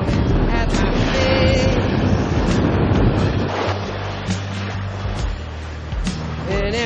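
Rough Atlantic sea near Cape St. Vincent surges around a sailboat at sea, with constant roaring wind buffeting the microphone and heavy waves washing loudly and continuously.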